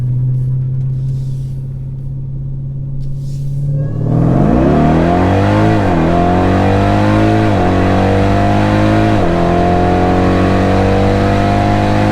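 A loud modified Jeep Grand Cherokee Trackhawk engine idles, then roars as it accelerates hard through several gear shifts, staying close and steady.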